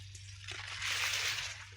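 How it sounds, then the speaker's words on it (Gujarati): Irrigation water running through a mung bean field on a farm, a soft steady trickle and slosh close by, fairly faint over a low background hum. "હું બતાવું તમને મગમાં પાણી ચાલી રહ્યું"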